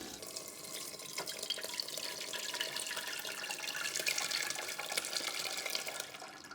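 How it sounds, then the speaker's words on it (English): Cheese curds and whey are poured from a pot into a colander set over a non-stick saucepan, giving a soft, steady splashing and trickling stream of liquid that runs without a break. "Now pour the curds about 1/3 at a time."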